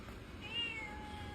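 Pet cat meowing near a door at feeding time, a single short faint meow rising and falling in the middle, set against a quiet indoor room.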